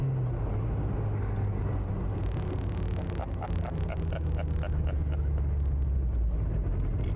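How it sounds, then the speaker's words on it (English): Mazda Miata autocross race car engine revving hard in a low gear, a steady loud drone with rising pitch, heard from inside the car with a continuous road and cabin rumble beneath. "You're over revving."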